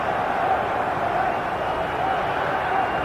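A loud, continuous football crowd roar fills a stadium during Liverpool v Barcelona, a UEFA Cup semi-final second leg in 2001, a dense steady wall of noise with a commentator's voice faintly under it.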